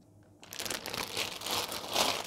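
A plastic bag of COBI building bricks for a Citroën Traction Avant 11CV model is torn open and crinkled, close and loud, with continuous rustling and crumpling after a short quiet start; no speech.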